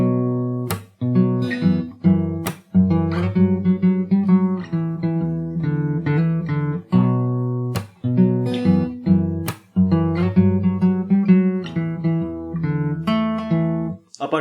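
A song from Cyberpunk 2077 played on guitar from the beginning: rhythmic plucked melody and chord strums with crisp repeated attacks, close and loud, without speech.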